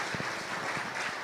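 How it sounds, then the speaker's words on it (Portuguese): A church congregation applauding in a Portuguese-language service, a brief stretch of diffuse, distant clapping blended with faint room noise. "aplauda o Senhor bem forte"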